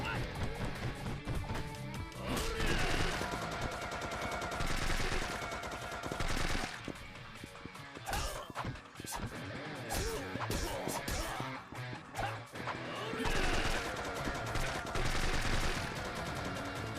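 Dense, rapid machine gun bursts in the video game Yakuza 4 Remastered, loud and nearly continuous with brief pauses, layered over game music and effects.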